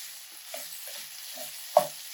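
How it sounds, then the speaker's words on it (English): Sausage with red and green bell peppers sautés in a pan, giving a faint, steady sizzle broken by a few soft stirring scrapes and a brief clink. "We're going to let this saute up for about 5 minutes."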